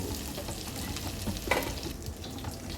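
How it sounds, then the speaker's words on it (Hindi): Prawns frying in hot oil in a pan while making a prawn coconut curry, giving a steady, dense sizzle and crackle close up with a brief louder pop, and no talking. "ये प्रॉन हमारे फ्राई हो चुके हैं।"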